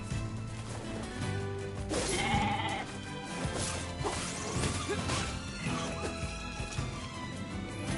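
Sheep bleating amid NieR Replicant game sound effects, with a sharp crash near the middle and steady background music throughout.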